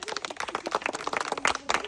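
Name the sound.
audience clapping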